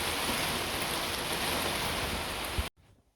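A heavy outdoor rain shower lashes down in a loud, dense, continuous roar of spattering drops. It cuts off abruptly near the end, leaving quiet low rumbles.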